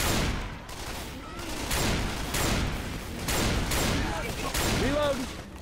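Rapid gunfire in Left 4 Dead 2, with repeated bursts of shots rolling on steadily over game noise and a loud, dense mix throughout.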